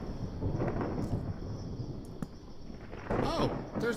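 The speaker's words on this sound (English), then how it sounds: "that lightning storm sounds much closer to me now" Thunder from a lightning storm in Minecraft rolls as a low, distant rumble, with a sharper crack partway through and a renewed swell near the end, all fairly faint.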